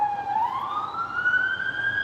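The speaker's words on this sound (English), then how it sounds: "I'm on the balcony, guys, so you can hear the sirens." An emergency vehicle siren wails from the street below a balcony, a single rising tone sweeping upward, clear and moderately loud with no talk.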